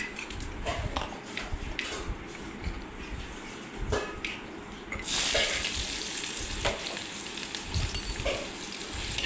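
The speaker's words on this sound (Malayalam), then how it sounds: "അപ്പോൾ നമ്മുടെ എണ്ണ ചൂടായി വന്നിട്ടുണ്ട് ഇനി നമുക്ക് അതിലേക്ക് കടുക് ഇട്ട് കൊടുക്കണം കടുക് ഒന്ന് പൊട്ടി വന്നതിന് ശേഷം അതിലേക്ക് നമ്മൾ ചേർത്ത് കൊടുക്കുന്നത് സവാളയാണ്" Mustard seeds and finely chopped onion sizzle in hot oil for a Kerala jackfruit-fibre thoran, a steady frying hiss that grows louder and brighter midway, with scattered pops and clicks, close and without talk.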